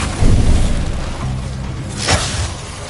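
Incendio fire spell cast in Hogwarts Legacy, a loud booming whoosh of flame bursting at the start, then a second sharp crackling burst near the end over a rumbling low bed.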